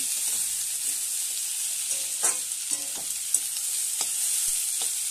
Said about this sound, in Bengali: পেঁয়াজ দিয়ে ভালো করে ভেজে নিচ্ছি